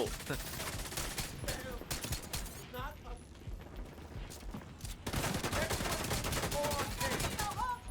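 Gunfire in the shooter video game Division 2, dense bursts of automatic weapon fire rattling almost continuously, loud with a brief lull in the middle, while someone talks over it.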